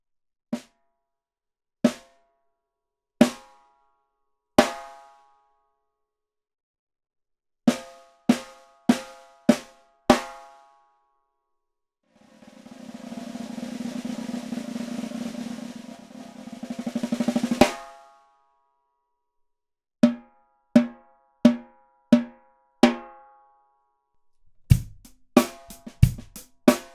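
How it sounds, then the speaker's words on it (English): A well-worn snare drum with an old head is struck in sparse single hits, followed by a roughly five-second buzzy roll that swells and cuts off, then more spaced hits and a quick closing flurry, loud and close. "Let's give a listen to the drum that's directly in front of me."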